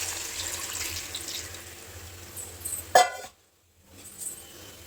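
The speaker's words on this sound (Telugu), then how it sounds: "ఆ వాటర్ కూడా ఇందులోనే పోసుకోవాలి" Water from boiling goat head pours steadily into a cooking pot for about three seconds, a close splashing stream, then stops abruptly before faint kitchen sounds return.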